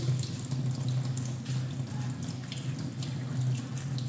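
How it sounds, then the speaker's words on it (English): Running tap water pours steadily over rice being washed for chicken biryani, a continuous close splashing hiss with a low gurgling hum, with no talking. "Now we will wash the rice very good."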